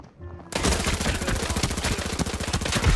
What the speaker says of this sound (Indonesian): Gua tembak pakai SMG 5